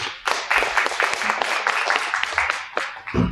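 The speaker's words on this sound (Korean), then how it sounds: "여러분 박수 한번 부탁드립니다" Dense applause from an audience at a corporate governance forum presentation, steady clapping filling the room for a few seconds before fading slightly at the end.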